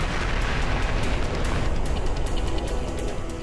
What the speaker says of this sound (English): Then, 9 seconds later, another huge explosion.